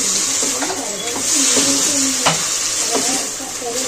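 Taro greens being stirred and fried in a pan with hilsa fish heads, a steady sizzle broken by scraping stir strokes and clinks, with a voice talking faintly over it.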